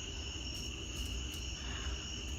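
Insects, cicadas among them, buzz steadily through the night in a continuous thin drone, with a few faint pulsing bursts and no voices.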